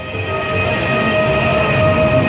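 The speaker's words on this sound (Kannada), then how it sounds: "ಈ ಟ್ರೈನ್ ಸ್ಟಾರ್ಟ್ ಆಯಿತು ನೋಡಿ" A steady rumble of a high-speed train getting underway in Uzbekistan, with a continuous low roar and a faint high whine held throughout, fairly loud and close.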